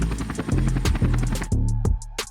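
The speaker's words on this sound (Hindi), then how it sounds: "बाबा ने हेलीकॉप्टर लैंड किया।" A cartoon helicopter comes in to land, its loud rhythmic rotor throb steady and close with a whining engine hum, all alone without voices.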